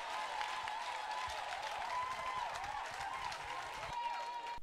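A church congregation applauds and cheers in praise of God, a dense steady roar of clapping and voices over a sustained tone, continuous and even throughout.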